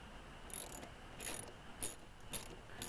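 A 10mm socket ratchet loosening tail light screws on a 1999 Mercedes ML320, giving several short, quiet bursts of clicking spaced across a low background hum, with no talking.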